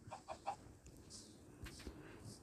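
Chicken clucking in the Minecraft video game: a quick run of three short, close clucks at the start, then quieter game sounds with no voices.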